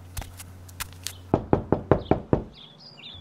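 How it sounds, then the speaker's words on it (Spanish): Six quick, sharp knocks on a door in a toy cartoon, evenly spaced and close, after a few faint taps over soft music. "Voy a llamar a la puerta."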